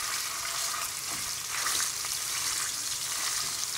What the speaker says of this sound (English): You're gonna take raw pork and put it in the pan. You should hear a sizzle like that.